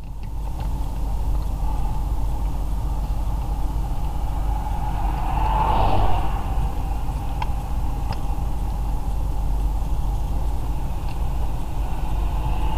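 Lexus LS 430 UCF30 running on LPG through a STAG Qmax8 plus system during a test drive, a steady engine hum and road rumble from inside the cabin, briefly swelling in the middle.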